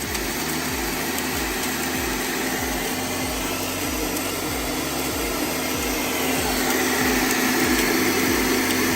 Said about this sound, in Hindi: अच्छे से पाउडर फॉर्म में ले आऊँगी ब्लेंडर में।